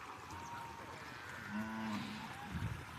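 A herd of cattle returning from grazing on a border char near India and Bangladesh gives a clear sustained moo midway, followed by a shorter low call, over a faint steady outdoor hum.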